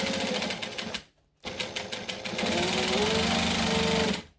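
A sewing machine bastes a seam on a wallet, running in a fast, even mechanical chatter close to the mic, stopping briefly after a second, then resuming and holding a steady hum until it halts.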